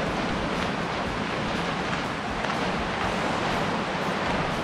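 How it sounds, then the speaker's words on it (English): Steady, continuous rushing water of waterfalls at Finch Hatton Gorge fills the air, a broad even roar with no breaks, moderately distant and with no voices. "So we can start to hear the waterfalls."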